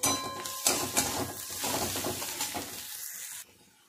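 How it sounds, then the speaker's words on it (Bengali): Onion fries in a pan with turmeric powder, a dense crackling sizzle dotted with spatula knocks and scrapes that cuts off abruptly near the end. "আবারও খুব ভালো করে পেঁয়াজটা ভেজে নেব"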